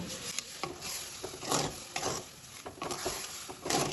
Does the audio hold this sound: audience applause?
no